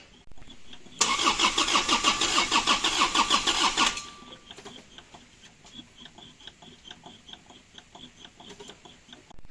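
An Isuzu Panther engine is started: a loud cranking burst of about three seconds, then it catches and settles into a quieter steady idle with a light ticking rhythm.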